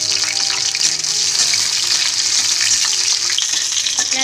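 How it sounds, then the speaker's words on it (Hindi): Garlic sizzles in hot oil with cumin in a kadai, a loud, dense, continuous hiss with faint stirring clinks and no talk. "अब हम इसमें लहसुन डाल रहे हैं।"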